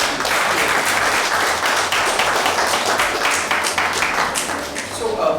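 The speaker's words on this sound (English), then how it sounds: "So let's appreciate and give a big applause to them." Audience at a smartphone workshop applauding students, a dense, loud wash of clapping that holds steady for several seconds and eases slightly near the end.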